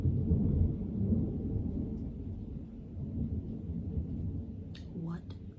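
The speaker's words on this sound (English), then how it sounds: "what the fuck with the thunder?" Low thunder rumbles outside, a steady deep roll that swells and fades over several seconds, faint and distant, with a brief sharper sound near the end.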